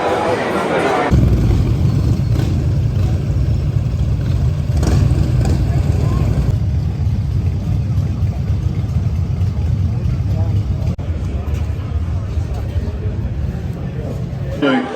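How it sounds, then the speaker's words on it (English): Antique Moto Guzzi and Ducati motorcycle engines start and run, a steady loud rumbling drone after a sudden onset, continuing throughout with some crowd noise around. "We're going to be firing up some of these, the Moto Guzzis and the Ducatis"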